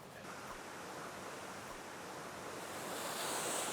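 Steady broadband rush of mountain waterfalls cascading nearby, a continuous roar that swells slightly louder toward the end, with no voices.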